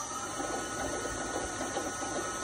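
VFD-driven milling machine spindle running on the high setting of a dual-speed motor switch at about 500 RPM, a steady close mechanical whir with fine ratcheting, gear-like texture and no pauses.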